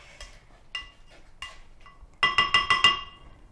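A spoon stirs sunflower seed caviar in a bowl, making a few scattered clinks that end in a quick run of five bright knocks against the bowl. No one speaks.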